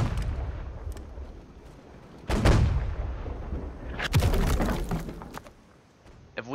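Ship cannons fire chain shot in a video game broadside, two heavy booming volleys a couple of seconds apart, each a burst of blasts with crashing tails, loud and close.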